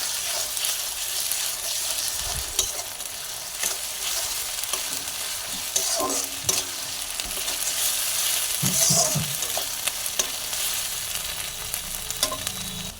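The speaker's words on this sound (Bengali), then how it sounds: "আমার এখানে ভালো করে আদা রসুন পেঁয়াজের সঙ্গে ভাজা হয়ে গিয়েছে" Ginger-garlic paste frying with browned onions in a pan for a low-oil chicken curry, giving a steady close sizzle broken by occasional scraping stir strokes, with no talking.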